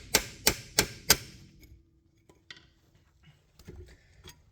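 Four hard, ringing metallic hits on the corner of a brake pad to free it from a Jeep ZJ caliper, evenly spaced and close, followed by faint clicks and small knocks as parts shift.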